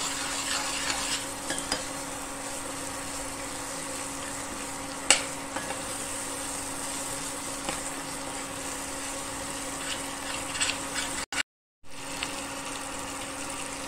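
Ginger-garlic paste frying in masala for chicken gola biryani and being stirred, giving a steady, close sizzle with occasional soft scrapes that cuts out briefly near the end.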